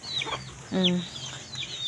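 Chickens clucking close by, with short clucks and a brief louder squawk in the middle.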